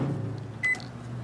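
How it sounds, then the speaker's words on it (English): A microwave oven hums steadily with an iPhone 7 inside, a low continuous drone heard close, with a brief high electronic tone partway through. "As that phone is microwaving for 30 seconds now"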